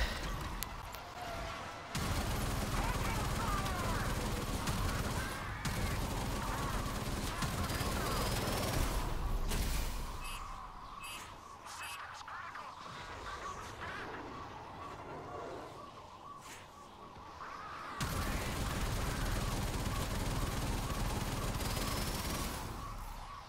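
Rapid turret gunfire in a video game spaceship's dorsal turret, dense automatic bursts that stop for several seconds and then resume loudly.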